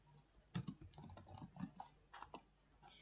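Computer keyboard typing as text is entered at a school computer, a quiet, irregular run of light key clicks with brief pauses between bursts and no talking.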